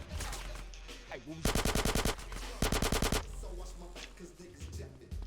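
Two loud bursts of rapid automatic gunfire in GTA San Andreas, each about a second long, separated by a short gap, with game ambience and faint voices around them.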